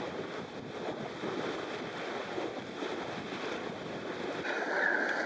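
Sailboat heading out of St. Simon Sound past Jekyll Island toward the ocean inlet, with steady wind and water rush around the hull, constant and fairly loud throughout.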